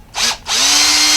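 Power drill boring through a plastic panel in a workshop: a short burst, a brief pause, then a steady loud whine with rising pitch as the bit bites, close up and alone.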